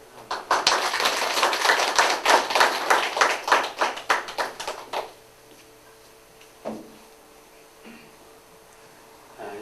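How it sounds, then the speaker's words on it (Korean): A church congregation claps together at a catechumen and baptism ceremony, a dense burst of rhythmic applause lasting about five seconds before fading into a quiet, reverberant hall with a few small knocks. "박수로"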